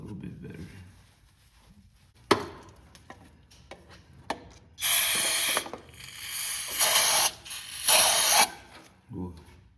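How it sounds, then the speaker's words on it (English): Several long bursts of aerosol throttle-body cleaner hiss loudly onto the throttle body of a 1988–97 Nissan D21 pickup, separated by clicks and mechanical rattles, with quieter handling noises in between. "I think I put too much spray right there."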